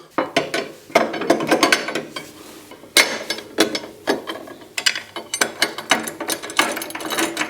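A ratchet wrench rapidly clicks while bolts are tightened on a 2024 Harley-Davidson Road Glide, several quick bursts of loud, close clicking separated by brief pauses, with no speech.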